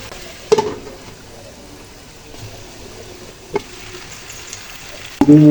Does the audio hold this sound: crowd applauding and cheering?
no